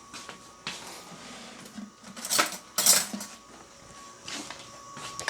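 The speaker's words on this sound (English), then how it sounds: "So I'm going to get a clean spoon here." A clean metal spoon is picked up and handled in a home kitchen, giving a few light clinks and scrapes with brief brighter taps near the middle, close and fairly quiet with no talking.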